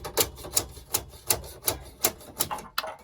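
A 3/4-inch SharkBite fitting being pounded off a pipe with an orange disconnect tool, eight evenly spaced sharp knocks in a steady rhythm, close and moderately loud with no talking.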